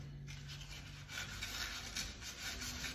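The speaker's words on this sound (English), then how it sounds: "I'll sand three different ways in here, as many different directions as I can" Hand sanding of primer on a hot rod body with sandpaper, a soft, close, steady rasping rub in repeated strokes, fairly quiet and with no talking.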